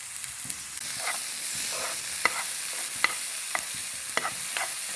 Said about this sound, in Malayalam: ഇനി ക്യാപ്സിക്കം ചെറുതായി അരിഞ്ഞതിടാം. നന്നായൊന്ന് വഴറ്റാം.